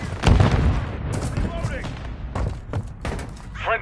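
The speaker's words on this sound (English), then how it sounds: "Stun grenade out!" A stun grenade going off in a Modern Warfare 3 multiplayer match, heard as a heavy thump and boom followed by scattered gunshots and impacts, with radio-style voice callouts throughout.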